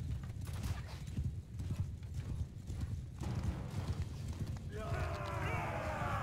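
A horse gallops in the game Mount and Blade II Bannerlord, with rapid continuous hoofbeats mixed with battle noise and a brief whinny near the end. Voices talk over it.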